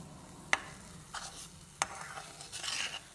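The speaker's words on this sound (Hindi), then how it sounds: "इस तरह ऐसे मिक्स करना चाहिए," A thick almond saffron burfi mixture is stirred and roasted in a pan, giving a few distinct scraping strokes with soft sizzling between them, close and clear with no talking.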